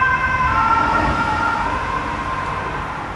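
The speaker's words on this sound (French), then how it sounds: "Voilà une ambulance." An ambulance siren wails loudly in steady rising and falling tones as the vehicle passes close by outdoors, fading slightly toward the end, with road traffic noise underneath.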